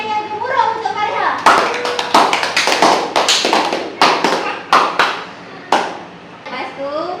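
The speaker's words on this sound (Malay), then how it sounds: "tepukan yang gemuruh untuk Farha" Schoolchildren in a Year 2 religious studies classroom clap for a classmate, a scattered series of sharp, uneven hand claps with gaps, close and fairly loud, with children's voices faintly mixed in.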